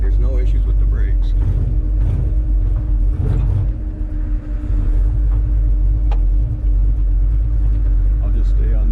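A 1965 Ford Falcon engine idling with a deep, loping rumble from its cam, steady and close, with people talking over it.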